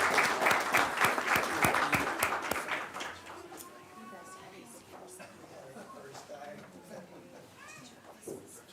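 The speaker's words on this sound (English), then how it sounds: "Let's give them one more round of applause." Applause at a school board meeting honoring students rings out loudly for about three seconds of brisk clapping, then fades while people keep talking and murmuring in the room.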